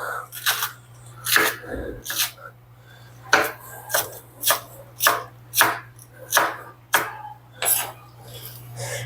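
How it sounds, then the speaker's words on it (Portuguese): A knife chops steadily through purple cabbage and beetroot on a cutting board for a salad, about a dozen crisp, evenly spaced thuds, close and clear. "vou picando já, né?"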